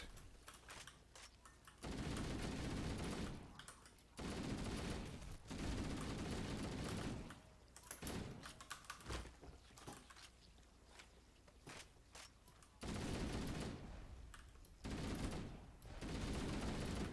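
Halo Anniversary video game gunfire: sustained bursts of rapid automatic shots in several long volleys, separated by brief pauses with quieter scattered shots, loud and close.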